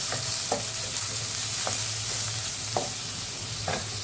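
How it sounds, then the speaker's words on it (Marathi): Onions sautéing in oil in a kadhai make a continuous close sizzle, with a spoon stirring and scraping at regular intervals throughout, no voices. "आता 3 ते 4 मिनिटं व्यवस्थित कांदा परतून घेऊया।"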